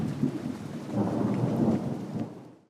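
Light rain falls in Guatemala as a steady, close hiss of drops with a low rumbling undertone, ending abruptly.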